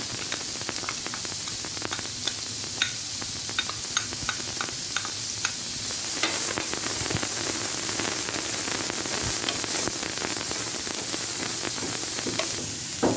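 Onions and chicken fry in olive oil in a frying pan, giving a continuous close hiss and crackle with scattered pops and occasional stirring clicks, growing slightly fuller midway.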